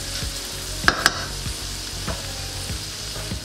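Onions sweating in a pan over medium-low heat for tomato lentil soup, giving a steady close sizzle with occasional scraping stir strokes and two sharp clinks.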